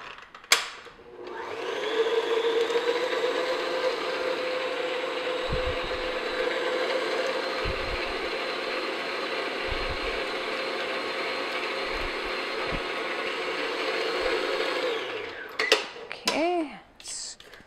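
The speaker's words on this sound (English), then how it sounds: "I'm going to add the eggs one at a time and beating after each one, just until they're incorporated" An electric mixer beats eggs one at a time into pumpkin cupcake batter, running with a steady whirring drone for about fourteen seconds, with occasional bumps against the bowl, then stopping with a few clinks and scrapes.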